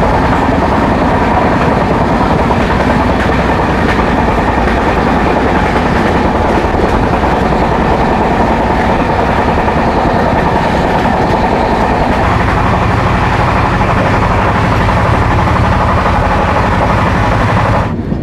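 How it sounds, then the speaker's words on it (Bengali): Inside an AC coach of the Shipra Express running fast between Indore and Howrah, a loud, continuous roar with rhythmic clickety-clack from the wheels on the rails filling the whole stretch, without talk. "মাঝের মধ্যে ট্রেন এত মারাত্মক গতিতে যাচ্ছে মানে কথা বলতে কিছু শোনাই যায় না"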